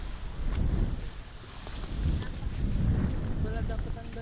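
Gusty wind buffets an open microphone at an outdoor swimming spot, a loud rumbling roar that swells and eases in waves, with voices faintly talking underneath.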